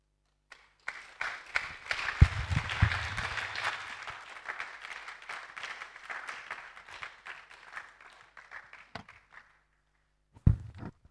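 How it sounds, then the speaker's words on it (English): Applause breaks out at a national health week celebration, a thick patter of clapping that swells, holds for several seconds and then thins out, ending with a few last claps after a brief lull. "Let's keep clapping as our chairperson is going to take a seat."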